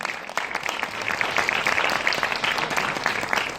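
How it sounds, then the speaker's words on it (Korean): An audience at a Korean film academy graduation screening applauds as directors, crew and actors come on stage, producing a continuous close patter of many hands clapping at steady volume throughout. "그럼 박수 부탁드릴게요."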